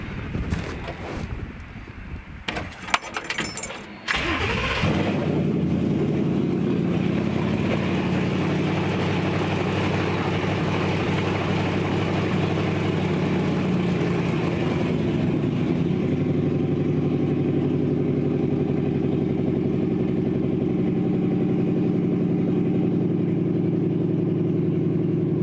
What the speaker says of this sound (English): This thing will start right on the key.